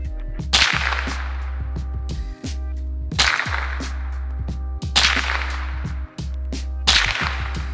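A Ruger SR-22 .22 rimfire rifle fires four sharp, cracking shots at regular intervals about two seconds apart, each with a short decay, over a constant low hum.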